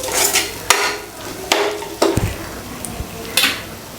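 A spoon mixes sweet potato cutlet mixture in a metal bowl, giving several sharp clinks at uneven intervals over soft, continuous scraping and stirring.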